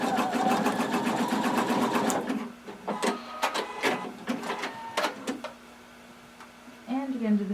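A sewing machine stitching down a swimsuit strap whirs rapidly for about two seconds, then gives a few short ticking stitches and clicks before falling quiet, close by.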